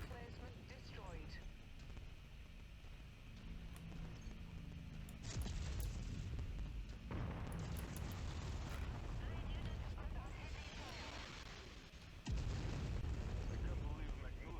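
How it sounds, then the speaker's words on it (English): An artillery emplacement blows up during MechWarrior 5 combat: heavy booming explosions and rumbling bursts over continuous loud battle noise, with sharp high crackles and a fresh blast near the end. "Artillery emplacement destroyed."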